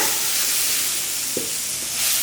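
Chili powder and onions stirred in a frying pan for goat gravy, a steady close sizzle with a brief scrape of the spoon partway through and no talk.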